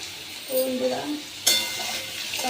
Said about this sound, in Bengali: পনিরের আলুটা ভালো ভাজা হয়ে গেছে